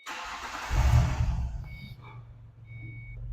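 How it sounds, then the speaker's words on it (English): A 2005 Ford Mustang's 4.0L V6 engine cranks and catches, rising to a low rumble and then settling into a steady idle close by. "let me fire it up here"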